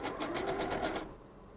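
A sewing machine stitching a fabric mask on a regular stitch, a close, fast rattling whir that runs for about a second and then stops.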